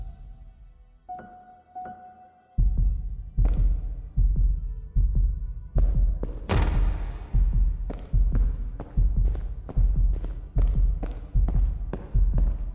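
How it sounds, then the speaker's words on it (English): A loud, steady heartbeat effect from the video game Fell & Sell pounds in regular deep double thumps over a faint tonal hum, with the beats growing stronger after the opening seconds. "The heartbeat's a little loud."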